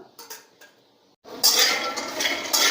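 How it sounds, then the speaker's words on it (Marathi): Peanuts roasting in a pan over low gas are stirred: a few light clinks of a utensil on the pan, then a brief quiet before a louder, close rustling and scraping of the nuts being moved around, with no talking. "आणि कमी गॅसवर भाजून घ्यायचे शेंगदाण्या फास्ट गॅस नाही करायचा"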